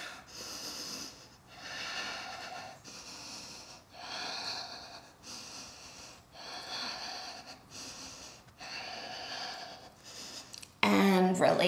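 Slow, deep breaths come and go while an arm balance is held during a yoga practice, about eight long airy inhales and exhales in a steady rhythm, close and clear, before a voice starts abruptly at the very end.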